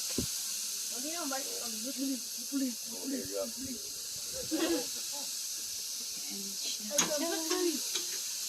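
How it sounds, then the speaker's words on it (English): Barbecue pork chops sizzle on an outdoor grill, a steady soft hiss running throughout while a person talks over it in bursts. "Nagluluto yung asawa ko ng barbecue pork chop."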